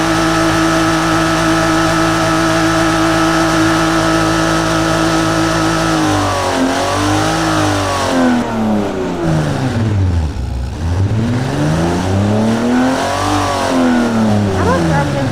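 A simulated car engine in the game Automation holds a steady high drone, then swoops up and down through several rev sweeps, loud and close, with a person talking over it.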